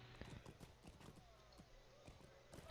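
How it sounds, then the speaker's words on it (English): Horse hooves clip-clop in a rhythmic gallop in the online game The Lord of the Rings Online, fairly quiet and steady, ending in a brief sharp noise. "You kind of like summon the horses there."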